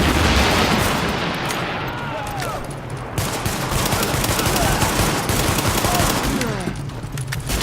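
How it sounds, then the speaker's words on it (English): Heavy gunfire from a rooftop gunner in a video game: dense, rapid bursts of shots crackling loudly and nearly without pause, with a brief voice now and then. "The escort party's taking heavy fire from the roof."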